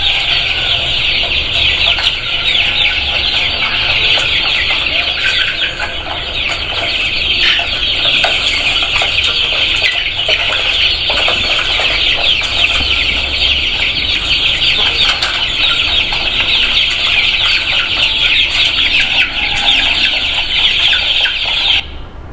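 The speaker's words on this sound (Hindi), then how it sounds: "ये मुर्गों का है, ये सारे मुर्गे मैंने इधर कर दिए हुए हैं" Dense, continuous clucking and squawking from many roosters packed in a pen, with occasional wing flaps, loud and close throughout with no speech.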